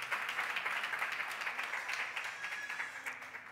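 A congregation at a church service gives a round of grateful applause, steady dense clapping that fills the whole stretch at moderate volume with no voices over it.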